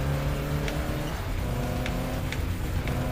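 Racing cars in a Sega racing game on PSP, with a rally Toyota MR2 being passed: a steady, humming engine drone with rising revs and a few faint clicks, no talk.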